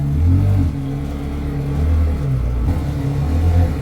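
A Ferrari engine runs at low idle while the car is slowly maneuvered onto a trailer, giving a loud, close, steady rumble with slight rises and dips in revs.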